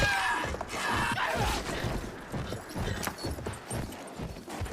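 Horse hooves clip-clop steadily as a rider sets off on horseback, a regular rhythmic beat of close, fairly loud footfalls with a faint creak of tack.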